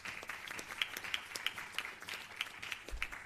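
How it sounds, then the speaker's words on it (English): Faint, distant audience applause at the Blue Justice Caribbean Hub regional launch, light scattered claps in a steady patter. "And that deserves a big round of applause."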